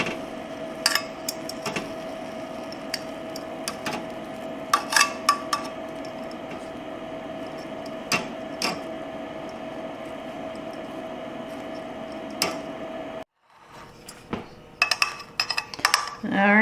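Cooked food is set into a dish with scattered clinks and taps of utensils against cookware, sharp knocks recurring irregularly over a steady background hum, with a quieter stretch near the end.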